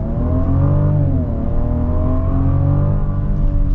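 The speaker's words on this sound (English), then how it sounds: "we'll get our full-blown acceleration here" A 2022 Genesis GV70 Sport Prestige luxury SUV accelerates at full throttle, its engine held at high RPM in a low gear. The steady, loud engine roar rises in pitch without a break and no one speaks.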